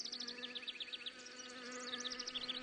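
Asian hornet (Vespa velutina) hovering near a honeybee hive, a steady close buzz of wingbeats with a fluttering, pulsing drone and faint overlapping hum from other insects.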